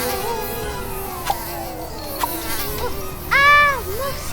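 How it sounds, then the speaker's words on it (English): Mosquitoes buzz through a forest as a thin, steady insect whine that drifts and wavers for several seconds, with brief higher tonal sweeps near the end. "Mosquitoes! Run!"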